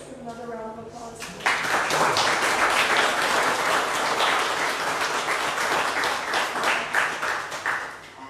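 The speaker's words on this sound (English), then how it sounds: "Let's give another round of applause." An audience at an evening lecture on the history of whaling in Barbados and the Eastern Caribbean breaks into applause that swells suddenly, then holds as dense, steady clapping and gradually tapers, with some voices mixed in.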